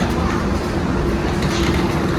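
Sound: passing train

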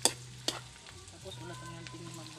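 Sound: stirring ginger and onion in a pan

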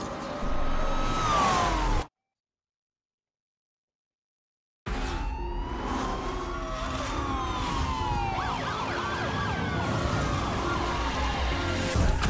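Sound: police car sirens during a police chase in the video game NFS Unbound

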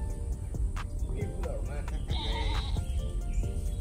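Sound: goat bleating

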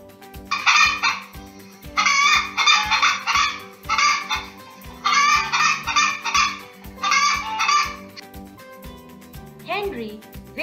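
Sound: hen clucking

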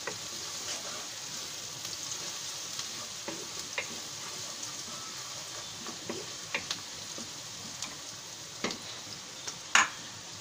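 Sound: stirring chicken curry in hot pan

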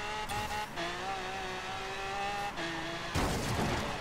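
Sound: Audi R8 car skidding in the Forza Horizon 3 video game

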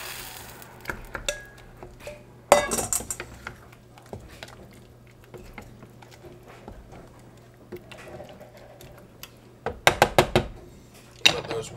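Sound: tomatoes added to pot with garlic and herbs

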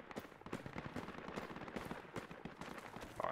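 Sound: gunfire from the video game Project Reality

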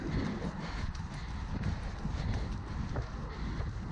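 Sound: horse trotting

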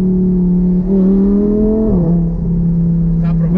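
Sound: Audi R8 car engine revving during a ride

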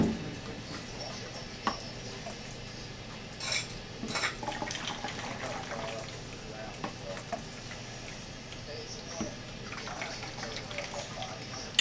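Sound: scooping duck stock into a container

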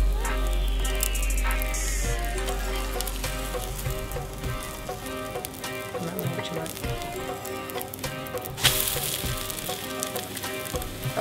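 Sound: omelette cooking and sizzling in a pan

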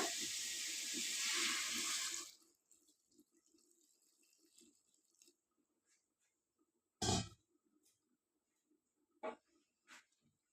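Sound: pouring a glass of water

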